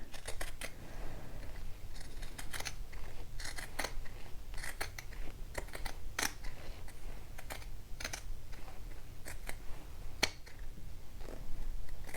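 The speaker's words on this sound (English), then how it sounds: "we're just gonna continue to trim away" Scissors trim the seam allowance of a sewn bodice for a McCall's 7908 dress, making a steady run of sharp, close snips with short pauses between cuts, all without voices.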